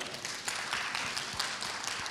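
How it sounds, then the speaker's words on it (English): Audience applause at a conference plenary session welcoming a guest speaker, a dense steady wash of clapping at moderate distance with no voices over it. "Please give him a round of applause, everybody."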